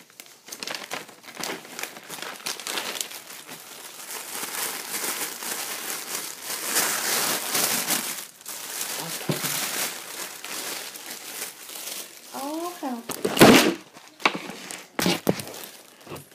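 A craft packet for a buttons-and-bows file folder being ripped open, close crinkling and tearing of paper or plastic wrapping, rustling steadily with a few sharper rips near the end.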